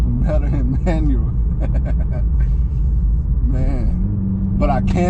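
A 2020 Honda Accord Sport with a PRL street downpipe revs in manual, its deep exhaust rumble droning steadily beneath someone talking almost continuously.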